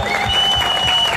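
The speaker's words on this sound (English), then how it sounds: "come on, a big round of applause." An outdoor crowd at a political party launch in Harare breaks into steady applause, dense overlapping clapping at a constant level with faint voices and a whistle-like tone mixed in.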